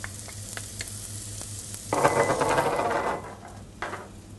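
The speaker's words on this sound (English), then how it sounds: "Give it a good stir" Veggie chilli with chilli and garlic being stirred in a pan, a steady frying sizzle swelling as ingredients scrape and churn, with light clinks before and a brief stir near the end, no talking.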